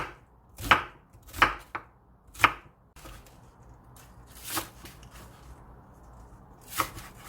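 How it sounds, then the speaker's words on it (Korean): A knife chops cucumber on a cutting board for Korean cucumber kimchi. A few sharp, distinct chops come close together at first, then softer, scattered cuts follow with longer gaps between them. "그냥 먹기 좋게 썰으세요"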